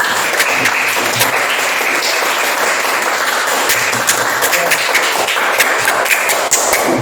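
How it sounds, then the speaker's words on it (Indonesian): A class of students gives sustained, dense applause, many hands clapping together steadily at fairly loud volume for several seconds with occasional louder claps standing out. "Tepuk tangan."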